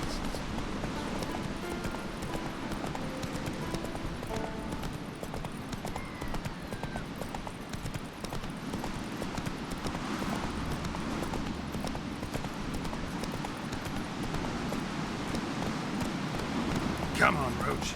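Roach, a horse in the video game The Witcher 3, clip-clops along in a steady, continuous hoofbeat rhythm at moderate volume over soft background ambience for the whole stretch.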